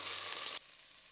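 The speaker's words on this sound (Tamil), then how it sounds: "இப்போ மீடியம் ஃப்ளேம் வச்சு வதக்கி விட்டுருக்கேங்க" Small onions and curry leaves sautéing in a pan over a medium flame for a drumstick and mango sambar: a steady, close hissing sizzle that runs for about half a second, then cuts off abruptly into quiet.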